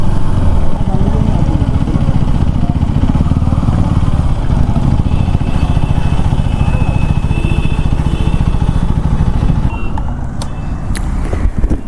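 A 2025 KTM Duke 390 motorcycle runs continuously on the road with a steady loud engine drone and wind rumble, a speaking voice partly audible under the noise.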